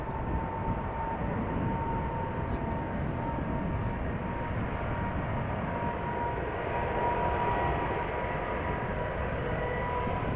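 KLM Boeing 777-200ER engines spool up at Amsterdam Schiphol, a steady distant rumble with a thin sustained whine riding on top, fairly faint and unbroken.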